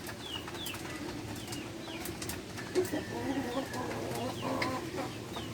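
Chickens cluck and murmur around the listener while pecking at feed, with scattered bird chirps, under a steady low outdoor hum.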